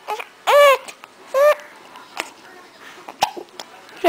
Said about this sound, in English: You got hiccups.